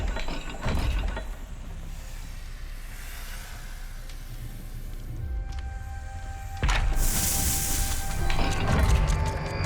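Mechanical clicking and ratcheting of a turning dial lock in the video game Hogwarts Legacy, with grinding gear-like texture and a louder shift near the end, fairly close with no voices.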